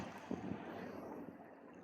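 Weakened sea waves wash softly and steadily, a continuous broad hiss blended with wind buffeting the microphone, with no one talking.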